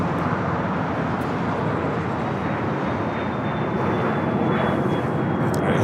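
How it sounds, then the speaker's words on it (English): A Cessna Citation XLS corporate jet takes off from runway 25 left at Los Angeles International Airport, its engines producing a continuous broad roar heard from a distance that swells slightly toward the end, with no voices. "We do have a corporate jet taking off, 25 left. Cessna Citation XLS taking off to Portland"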